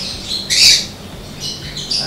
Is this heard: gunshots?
no